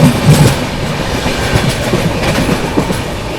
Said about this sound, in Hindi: Skipping भरतना railway station.